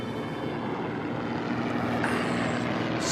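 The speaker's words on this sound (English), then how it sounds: "Just as an aeroplane going overhead." An aeroplane passes overhead, a steady broad engine rumble and whoosh that holds at an even level throughout with no talking.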